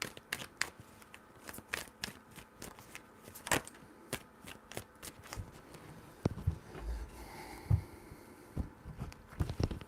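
A deck of tarot cards is shuffled by hand up close, producing quick papery slaps and flicks in uneven bursts over several seconds, with faint handling noise between them.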